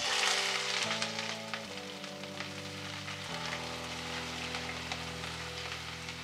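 Onions sizzle and crackle steadily in hot oil, a continuous frying hiss with low, sustained tones underneath.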